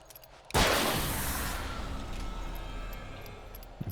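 A single sharp gunshot bursts out in Alan Wake Remastered, then a long decaying rumble and echo trail off over the next few seconds, with no talking.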